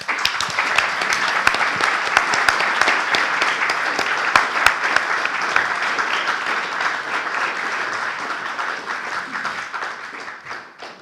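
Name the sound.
applause for the literary prize laureate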